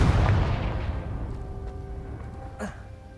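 A Confringo fire spell blast in Hogwarts Legacy, one heavy, booming explosion at the start that rumbles and slowly fades over about three seconds, with a small pop near the end.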